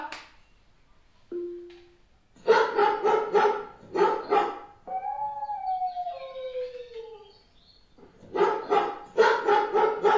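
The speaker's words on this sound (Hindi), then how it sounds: "कुत्ता।" Recorded dog barking plays from a smart speaker, with clusters of sharp, rapid barks separated by a drawn-out howl or whine, then another volley of barks at the end.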